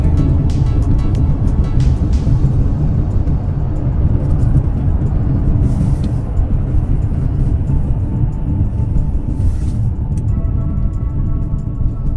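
Loud, continuous rumble of heavy delivery trucks on an industrial highway, engines and tires droning close by with a few brief hissing bursts as vehicles pass.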